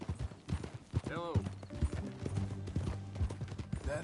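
Horse hooves clop in Red Dead Redemption 2 as riders set off, irregular close hoofbeats mixed with a whinny and spoken dialogue.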